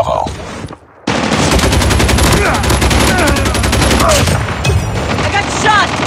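Rapid, sustained automatic gunfire from a Call of Duty Mobile match, likely an RPD light machine gun, erupts after a brief near-silent gap and continues loud and dense with steady repeated bursts, plus faint game voice callouts mixed underneath.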